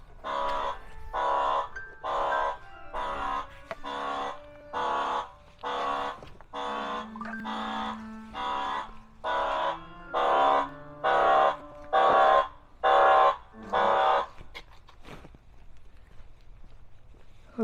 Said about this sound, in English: for some reason that tripped off my alarm